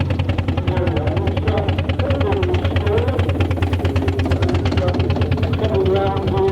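Massive twin-cylinder steam engine driving round the show arena at a country steam fair, a steady rhythmic chuffing and low mechanical thrum close by, with a voice talking over it throughout.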